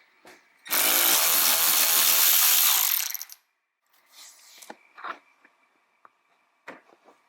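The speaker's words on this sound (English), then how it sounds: "Remove that one with the 10mm socket." Quick ratchet wrench with a 10mm socket spinning out a plastic fender liner fastener on a 2021 Toyota RAV4, a dense burst of clicking for about three seconds, followed by faint handling taps and rustles.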